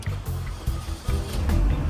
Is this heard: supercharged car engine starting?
yes